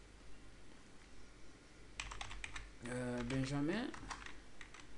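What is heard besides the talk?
typing on a computer keyboard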